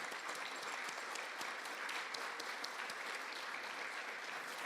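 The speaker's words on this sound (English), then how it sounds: "let's give them a round of applause" An audience applauds steadily for an alumni chapter board at a university alumni event, a dense, continuous clapping that holds at an even level throughout without any talk.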